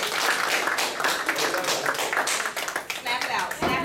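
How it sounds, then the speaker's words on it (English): Dense, busy clapping from an audience at a school gathering, a steady wash of hands with voices mixed in throughout, loud and close, easing briefly near the end. "Let's give her a round of applause."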